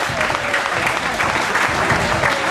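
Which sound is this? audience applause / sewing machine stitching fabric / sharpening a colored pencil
audience applause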